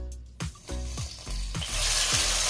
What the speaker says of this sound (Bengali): এবারে এগুলো একটু তেলে ভেজে নেব যাতে পেঁয়াজ আর রসুনের কাঁচা গন্ধটা চলে যায়।